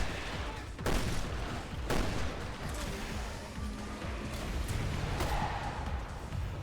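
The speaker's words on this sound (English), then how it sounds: "I shot him through an explosion and hit him" Gunfire and explosions from the survival-horror video game Resident Evil Revelations 2: several sharp loud bursts and booms over a continuous noisy battle din, with no talk heard.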